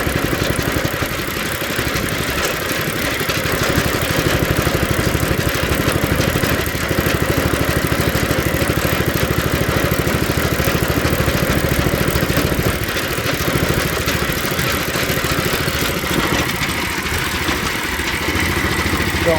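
A small engine with a weighted governor runs at a dead flat idle, a steady close, loud mechanical chug that holds unchanged throughout with no talking.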